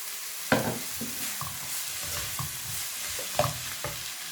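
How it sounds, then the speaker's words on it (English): A spoon stirs a chicken and cream cheese roll filling with sweet corn in a frying pan. Irregular scraping strokes, two of them sharp, sound over a steady low sizzle. "Stir it just for a few seconds again."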